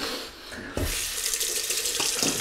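Tap water running into a bathroom sink for a cold rinse while shaving, a steady close splashing stream with a change in flow partway through, no talking.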